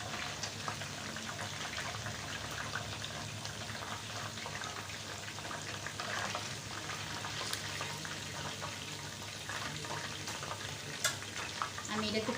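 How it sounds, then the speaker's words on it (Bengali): Onions frying in a pan for a chicken roast and pilaf meal, giving a steady close sizzle and crackle throughout with faint stirring scrapes and no talk. "পেঁয়াজটা ভাজা হোক।"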